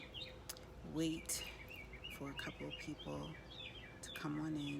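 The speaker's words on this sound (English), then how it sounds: "We'll listen to the birds chirping." Birds chirp and tweet faintly in the background outdoors while someone talks over them.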